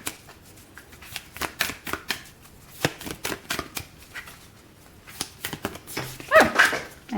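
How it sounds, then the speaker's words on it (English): Tarot-style cards are shuffled in quick, irregular bursts of crisp riffling and slapping, close and fairly quiet, ending with a louder flurry as cards scatter and fly loose. "Oh, again, cards flew away."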